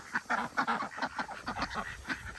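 Farmyard ducks quack and honk in a steady, close chorus of overlapping calls, loud and continuous with no talking over them.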